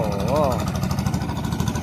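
A farm tractor engine runs in rural Isan, Thailand, a steady mid-pitched chugging rumble under a voice.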